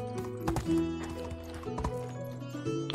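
Horse hooves in the medieval video game Medieval Dynasty; repeated clip-clop steps at an uneven walking rhythm, close and fairly clear over a tonal game background, with a horse whinny blended in and no speech.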